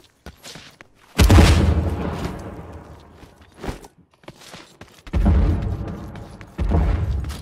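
Grenade blasts go off in The Cycle shooter game: a loud boom near the start decays into rumble, followed by scattered thuds and footstep-like clatter, then two more heavy bursts later on.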